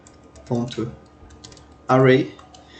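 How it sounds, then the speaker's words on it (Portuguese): Someone types on a computer keyboard while coding in Python, a fast run of soft clicks under someone speaking Portuguese. "Estou todo me atrapalhando aqui digitando."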